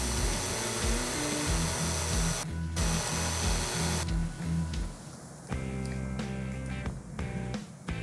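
Knife blade forged from a century-old file being sharpened on a 320 grit belt sander, a steady loud grinding whir with harmonic motor tones that briefly drops out and then changes pitch as the blade is repositioned.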